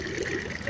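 Water runs steadily into a pot at a pay-per-litre water tap, a short continuous gush and splash with no talk.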